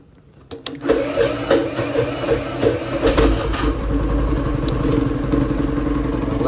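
A go-kart engine with a drill-based electric start catches after a brief quiet moment, then runs steadily with a buzzing, rattling idle close by. No one speaks.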